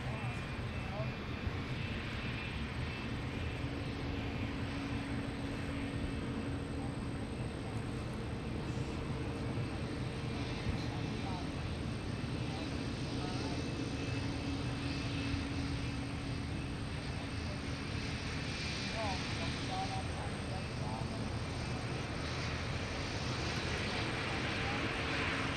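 Delta Air Lines Airbus A350-900 arriving from Tokyo Haneda at Minneapolis–St. Paul airport, a steady broad engine roar that holds at constant loudness throughout, with a faint background voice.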